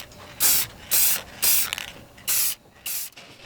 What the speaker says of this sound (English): decided to spray paint outside in the cold